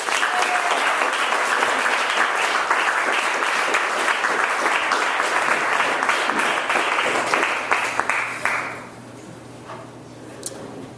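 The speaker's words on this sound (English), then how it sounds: "let's have a small round of applause for the introducer to our first reader" A small audience claps at a literary reading in a warehouse venue, steady applause for about eight seconds that then cuts off, leaving a quiet room with a faint hum and a brief sharp click.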